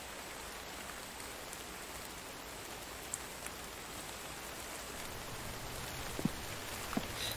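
Rain keeps falling through the night in the survival game The Infected, a faint, even hiss of drizzle with a few isolated drip ticks near the end.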